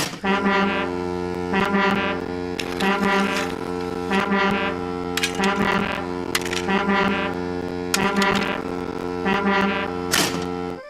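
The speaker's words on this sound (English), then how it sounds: "It's a new invention, a railway foghorn" A loud, deep, sustained railway foghorn blares continuously with rich harmonic tones, punctuated by sharp clicking transients throughout.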